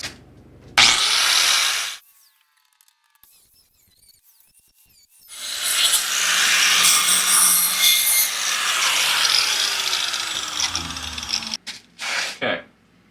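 Trimming the ends of a cooling-system part for a 1974 Volvo 164e: a brief harsh cutting burst, a silent pause, then a long sustained gritty grinding rasp, followed by a couple of short final passes.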